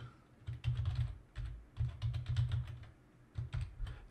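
A command is typed on a computer keyboard in quick, quiet bursts of clicky keystrokes with short gaps between them, with no talking.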